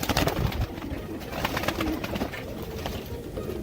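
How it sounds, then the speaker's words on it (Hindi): Original Fransi pigeons coo in a steady, overlapping flutter of low throaty calls, several birds close by and fairly loud, with no talk over them. "ये है ओरिजिनल फ्रांसी कबूतर"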